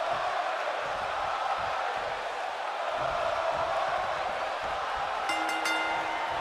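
Crowd noise in a WWE 2K22 wrestling arena set in Atlantic City: a steady, moderately loud roar of cheering spectators during an entrance theme, with a brief bright musical stab near the end.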